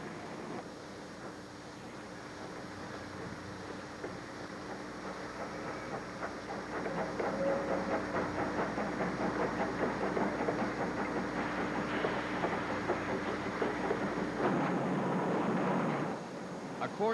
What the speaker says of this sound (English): Trains of empty cars are hauled to the mixing plant to stand by for loads of the finished material.